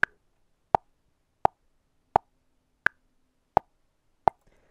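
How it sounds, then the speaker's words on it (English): An 85 BPM click track from Reaper, with seven short, sharp metronome clicks at an even pace, the first and fifth slightly different in pitch to mark the bar, alone against silence. "this is what a 85 BPM click track sounds like"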